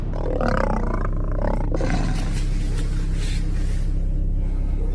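A lion that escaped from a circus near Rome roars loudly and close in the city, a deep rumbling roar that swells at the start and then carries on as a sustained low growl.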